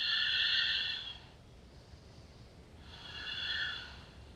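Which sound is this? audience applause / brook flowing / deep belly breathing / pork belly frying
deep belly breathing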